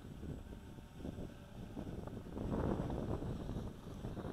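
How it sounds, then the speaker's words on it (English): Outdoor wind gusting against a microphone during a battery test of a Walkera QR X350 Pro drone, a steady low rumbling buffet that swells louder toward the middle, with no speech. "the wind is very unforgiving right now"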